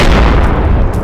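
Loud, close explosion in the military video game ArmA 2 with the ACE mod: a heavy boom and rumbling blast that fills the whole second without any voices.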